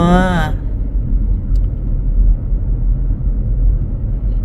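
A tour bus rolling along on a foggy road, its engine and road noise a steady low rumble heard from inside; a brief voice sounds at the very start.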